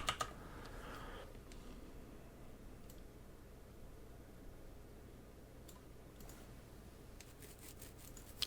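Faint, sparse taps on a computer keyboard are heard as words are typed, a few scattered clicks over a low background hiss, with a small cluster near the end.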